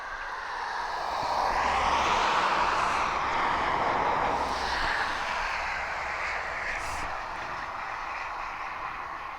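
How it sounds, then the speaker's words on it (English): A Cessna F406 Caravan twin-propeller aircraft circles overhead, its engine drone swelling to a peak and slowly fading, distant and continuous with a shifting pitch as it passes. "It's a Ream/Cessna F406 Caravan."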